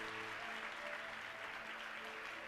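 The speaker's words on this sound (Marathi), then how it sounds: "Give a big clap to God." Faint, steady applause from a church congregation at a Saturday blessing meeting, a dense even wash of clapping that holds throughout under a low background hum.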